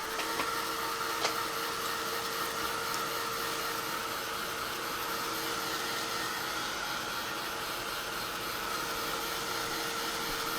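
A dryer blows a steady, even whoosh of air over Gelli-printed fabric, unbroken and moderately loud for the whole stretch.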